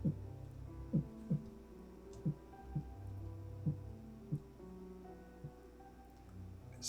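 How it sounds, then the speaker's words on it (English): A muffled heartbeat sound effect thumps about nine times in a low, soft, steady pulse over a faint hum. The beats space out slightly as the clip goes on. "You hear his heartbeat begin to slow."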